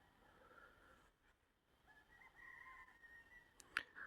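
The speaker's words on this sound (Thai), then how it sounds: "ไก่ป่าขันเนาะ" Red junglefowl crow faintly in the far distance in quiet woodland, a couple of thin drawn-out calls, followed by a brief sharp chirp close by near the end.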